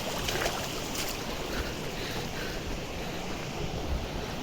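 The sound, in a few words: waterfall water rushing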